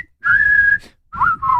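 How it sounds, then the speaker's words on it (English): Whistling on a television talk show: one long sustained note, a brief pause, then two shorter notes at a slightly lower pitch, clear and close with no talking. "Now, all together, let's whistle the song"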